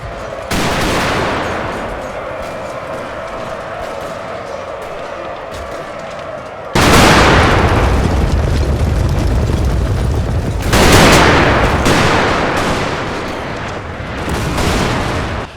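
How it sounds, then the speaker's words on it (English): Artillery and machine-gun fire from a Total War game battle recreating the 1906 Mome Gorge fight against Zulu rebels, with broad, sustained bursts of booming fire and rattling volleys that surge loudly at intervals. "the combination of sustained artillery fire, machine guns, and the disciplined British infantry assault proved overwhelming"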